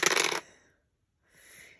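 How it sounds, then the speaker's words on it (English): Three dice rolled during a board game, giving a bright clattering rattle for about half a second, then silence, then a softer tumbling rattle near the end; no voices. "So you're going to roll 3 dice."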